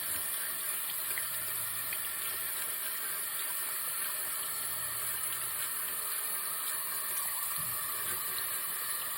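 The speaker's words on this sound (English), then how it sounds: "So I'm gonna first rinse it off with some water." Running water pours steadily over an engraved tumbler as it is rinsed, a continuous close splash lasting the whole stretch with no speech.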